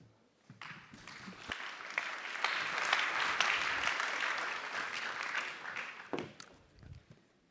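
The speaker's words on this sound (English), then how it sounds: "I was hoping for a much stronger applause" A conference audience claps to welcome a moderator, the applause rising from a few scattered claps to a dense, steady wash and then thinning out into isolated claps again.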